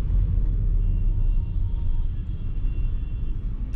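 Skoda or Volkswagen car with a 7-speed DSG gearbox downshifting on its own while driving in traffic, heard as a steady, loud low engine and road rumble from inside the cabin with no talking.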